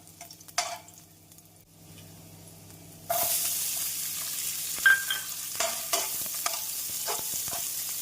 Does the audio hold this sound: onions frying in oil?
yes